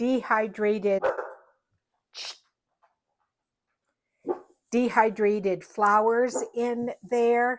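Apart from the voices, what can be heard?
neighbor's dogs barking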